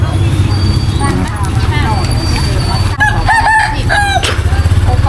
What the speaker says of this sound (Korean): 아 여기 닭 되게 많아.